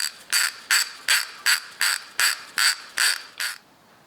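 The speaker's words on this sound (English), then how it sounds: "Got my torque wrench already set." A ratcheting wrench tightens bolts on an ATI Super Damper during a 2JZ engine swap into a BMW, giving about ten evenly spaced, close, crisp clicking bursts in a steady rhythm before stopping, with no talk.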